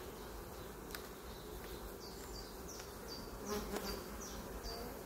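Agitated honey bees from an open hive buzz around closely in a steady drone, with individual bees zipping past in repeated short higher-pitched whines and no voices.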